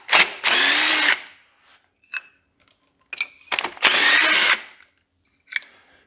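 A power tool whirs in two bursts while pulling spark plugs from an engine, with quiet clicks and ratcheting sounds between the runs, close and fairly loud.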